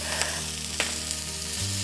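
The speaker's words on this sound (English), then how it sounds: "And we're just going to char those beans." White beans charring in a fry pan over high heat, a steady close sizzle and crackle with a low hum running underneath.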